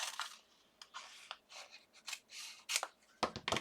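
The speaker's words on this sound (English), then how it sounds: "Grab my fabric scissors. Just going to cut a square big enough to," Fabric scissors cutting a square of fabric, a series of quick crisp snips and slicing swishes at close range, irregular in rhythm and fairly quiet with no voices.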